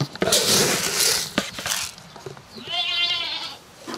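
Goats bleat on a farm, close by, one clear wavering bleat after some rustling and clattering noises.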